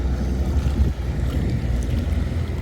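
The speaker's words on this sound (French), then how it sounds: "Ah, lui va me faire des grosses vagues par contre." Boat wake waves slosh against a quay at Martigues, a steady broad rumbling wash with wind noise on the microphone and no talking.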